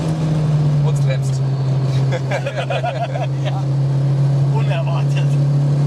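Heard from inside the cabin, a Mazda MX-5 NC fitted with a 2.5-litre engine pulls hard with a loud, steady engine drone and road roar while people talk over it.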